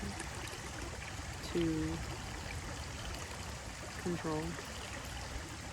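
Water flows steadily in a stream beside a lake with a constant soft rushing. A few brief chirps rise above it, and a person speaks quietly over the water.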